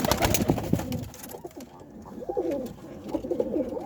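Pigeons coo close by, with several soft rolling coos in the second half. Earlier there is some rustling and fluttering noise.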